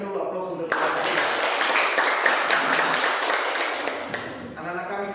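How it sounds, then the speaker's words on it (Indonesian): A classroom audience claps for a student group in a school session, a dense burst of applause lasting several seconds, with a voice speaking briefly at the start and end. "Berikan dulu aplaus untuk kelompok 3."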